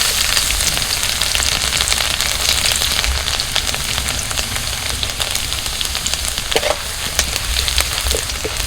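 Chopped garlic hits hot mustard oil in a pan already holding bay leaf, dried red chillies and whole cumin, setting off a loud, dense sizzle with popping crackles that runs steadily throughout, close by.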